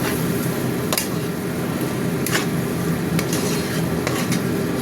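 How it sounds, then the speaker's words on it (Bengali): Chicken with green peas sizzles steadily in a pan while a utensil stirs and scrapes at intervals, a continuous close frying hiss with occasional sharper clinks. "আর একবারও নেড়ে দিই।"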